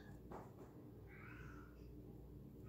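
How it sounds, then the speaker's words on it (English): A male house cat meowing to be let outside, a faint drawn-out meow mid-clip over low room noise, distant and quiet. "it sounds like I need to let my cat out."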